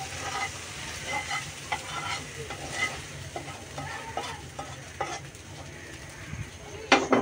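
Beef pieces being added to a hot frying pan while cooking kala bhuna, a steady sizzle and frying hiss with scattered stirring and utensil clinks, a sharper clatter near the end.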